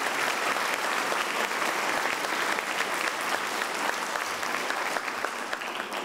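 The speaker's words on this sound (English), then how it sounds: "let's give him a round of applause for his beautiful work." An audience applauds at a university medical sciences roundtable in Puerto Rico, sustained dense clapping at a steady level from start to finish, fading slightly near the end, with no voices over it.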